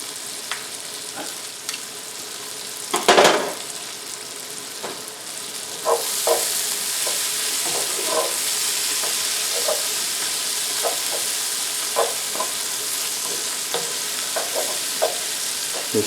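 Onions, mushrooms and garlic fry in a pan with a continuous hissing sizzle that brightens partway through, punctuated by a sharp utensil clatter and light rhythmic stirring taps.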